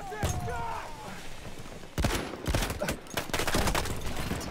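Battlefield 1 combat with shotgun blasts, heavy close booms landing in an irregular sequence after a quieter stretch of distant fire and ambient noise.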